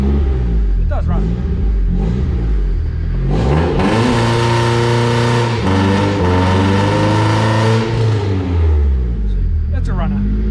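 A car engine runs close by, idling with a deep rumble and then revving up in a couple of strong rising surges before settling back, with someone talking briefly over it.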